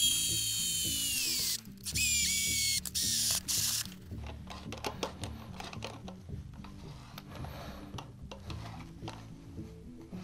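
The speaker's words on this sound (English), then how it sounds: "I'm going to go ahead and use a drill to screw these in." A power drill whirs in several short bursts as screws fasten a bidet seat mounting plate, followed by a run of ratcheting clicks and mechanical tapping.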